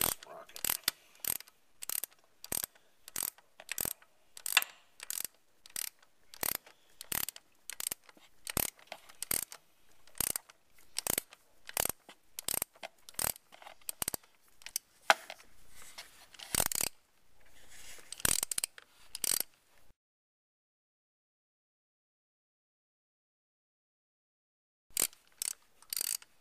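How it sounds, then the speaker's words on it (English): A ratchet clicks in rapid repeated bursts while loosening a pulley during a Porsche 944 timing belt change, close and crisp, running steadily for about twenty seconds before stopping, then a final short burst after a pause. "get back in there with the ratchet. Get this pulley off."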